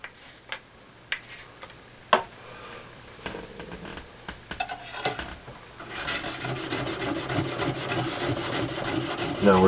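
A knife blade is drawn along a fine stone on a Lansky sharpening system in scattered gritty rasps that build into a steady, rhythmic back-and-forth scraping close up.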